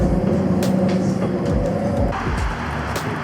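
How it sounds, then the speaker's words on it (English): Rumbling interior of a train riding north out of Brussels, Belgium, a steady rolling drone with low rail clatter and faint squeaks, continuous throughout. "So we just took the train out a little bit north of Brussels"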